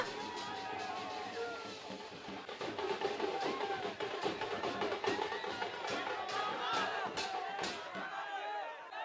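Large crowd of fans shouting and cheering at a statue unveiling in Vijayawada, a dense, sustained roar of many voices with scattered sharp yells and claps, loud and continuous throughout.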